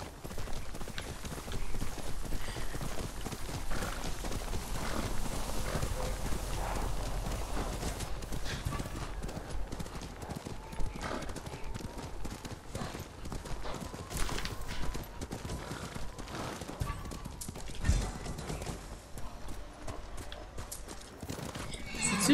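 Hoofbeats and whinnies from a horse in the game Ghost of Tsushima, a continuous clip-clop of a walking or trotting horse with occasional neighs, overlaid with game ambience and music.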